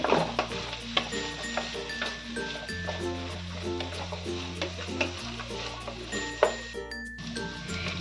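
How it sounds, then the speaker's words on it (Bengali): Mixed winter vegetables fry in a pan over a medium flame, with a soft steady sizzle and occasional stirring clinks beneath louder tonal background music. "এবার এই সবজিগুলোকে আমি ভালো করে একটু ভেজে নেব"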